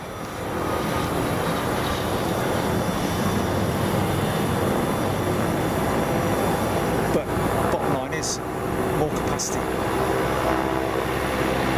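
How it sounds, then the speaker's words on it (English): A Cessna light aircraft engine runs at Boeing Field, a loud, steady broadband drone that holds for the whole stretch with only slight dips, while a voice talks over it. "That noise that you're hearing there is not the GENX's boat, folks. It's a Cessna."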